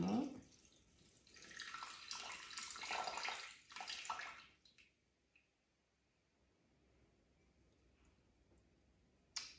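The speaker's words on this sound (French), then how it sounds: "j'ajoute 150 g d'eau" Water pours into a Thermomix bowl for a gougères dough, a broad rushing splash lasting about four seconds that stops abruptly, leaving near silence with a faint drip or tap near the end.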